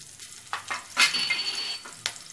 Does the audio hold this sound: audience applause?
no